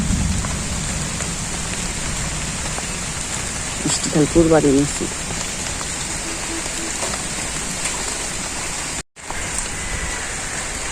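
Steady rain falls during a Padma puja gathering, a constant broad hiss lasting the whole stretch under brief speech from nearby people.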